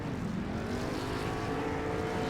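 Race car engines held at high revs on the grid before the start of the Fanaleds Challenge at Summit Point, a steady loud droning roar with no break throughout.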